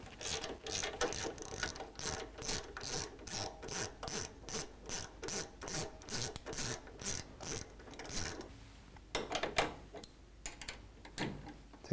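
Ratchet clicking steadily in quick repeated strokes while removing T40 Torx dash fasteners on a stock 2010 Harley-Davidson FLTRX, close and clear, slowing to a few scattered clicks near the end.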